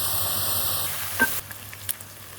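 Onion, ginger and garlic fry in a pan for matar gosht, a steady close sizzle that shifts after a stir, with a few soft clinks and taps of the spoon.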